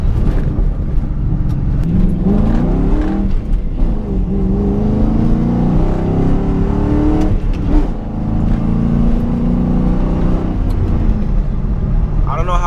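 A Ford Mustang engine revs up and accelerates loudly, rising in pitch, with a rough scraping rattle from the exhaust under the roar and some talking mixed in.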